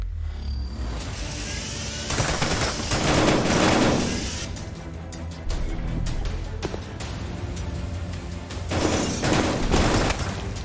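Rapid gunfire from a VR shooter game, dense bursts of shots and booms in loud clusters that pause and resume several times across the stretch, close and punchy.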